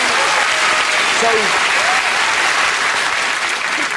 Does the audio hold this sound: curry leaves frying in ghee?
no